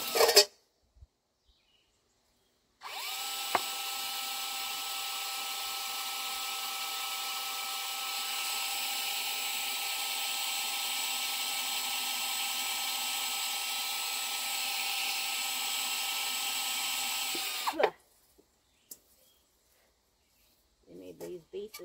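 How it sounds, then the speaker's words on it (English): A power drill whirs steadily and loudly up close for about fifteen seconds, starting and stopping abruptly, with quiet moments before and after. "I'll drill some pilot holes here"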